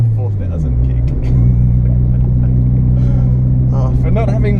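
A Honda Civic EK with a D16 engine revs to around 4,000 rpm, a steady, droning in-cabin engine note held loud throughout, with a voice talking over it.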